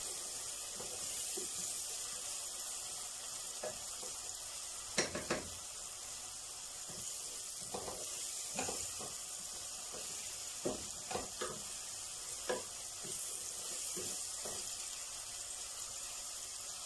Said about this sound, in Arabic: نحط البصله